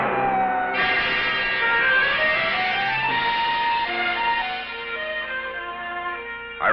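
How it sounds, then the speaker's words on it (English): An ambulance siren wails with rising and falling tones over steady traffic noise, fairly loud and continuous throughout. "It's only the ambulance."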